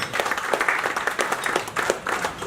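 An audience at a maritime industry stakeholder sensitization event applauds. Brisk, close clapping from a modest crowd gives distinct overlapping hand claps at a steady, loud level.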